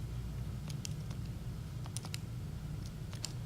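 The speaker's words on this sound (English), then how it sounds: "you can go straight to your calculator, type these in if you like." Calculator buttons are pressed in a loose series of small, sharp clicks, quiet and close over a constant low hum, with no one speaking.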